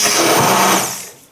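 A Moulinex QuickChef DD650 800 W ten-speed hand blender whirs loudly and close while blending a thick mixture, a steady high motor whine that winds down toward the end, with no talking.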